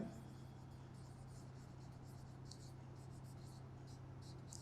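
Chalk or marker scratches across a board in a class ten maths lecture on quadratic equations, faint short strokes in a quick irregular series over a low steady hum.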